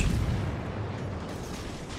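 Anti-air guns on a destroyer fire in a rapid, continuous barrage in the naval combat game World of Warships. The popping is close, loud and dense, with no speech.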